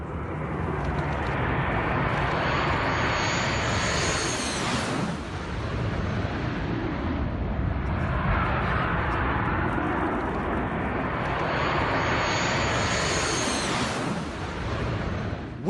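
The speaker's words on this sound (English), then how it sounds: "An Indian Air Force MiG-29 fighter jet arriving back at the Leh Air Base after a mission over Ladakh." An Indian Air Force MiG-29 fighter jet landing at Leh Air Base in Ladakh, a loud continuous roar of jet noise that swells and sweeps past twice without any voices.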